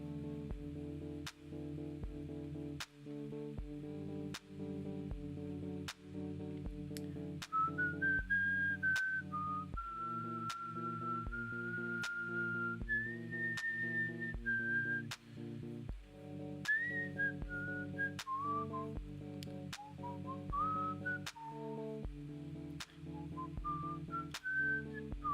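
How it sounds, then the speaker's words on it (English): A person whistles a wandering melody over a steady electronic backing loop with regular beats, the whistled line clear and sustained in the foreground for most of the stretch, with no talking. "I shouldn't whistle."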